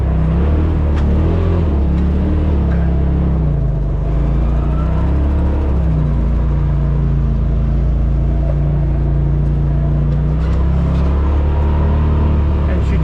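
A Polaris RZR Pro XP side-by-side engine rumbles steadily while driving slowly along a tight, bumpy trail, a loud close drone with slight rises in revs, and someone talks over it throughout.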